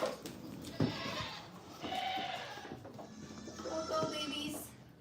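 Goats bleat a few times close by over a busy indoor background with shuffling and movement.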